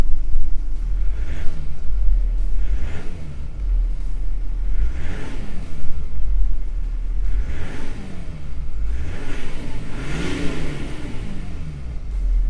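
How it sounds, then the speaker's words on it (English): A Mercedes-Benz G350d with a 6-cylinder diesel engine idles and revs, a loud, close, deep rumble that swells and falls in several repeated surges with no talking. "Starting up the car. Very, very silent engine here. We have the 6-cylinder diesel engine."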